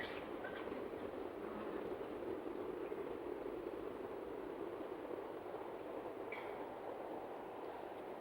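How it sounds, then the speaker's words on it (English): A train passes in the distance during a public talk in Saanen, heard as a faint, broad, steady rumble and hiss that lingers throughout with a couple of soft high squeaks, no voices over it. "If you listen to the noise, the train passing by, with complete silence"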